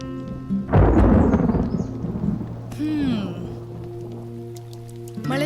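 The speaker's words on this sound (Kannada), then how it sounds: "ಮಳೆ ಶುರುವಾಯಿತು" Monsoon rain begins on a KTM 390 Adventure ride toward Varanga: a loud thunder rumble breaks out, then fades over a steady droning hum with faint rain patter.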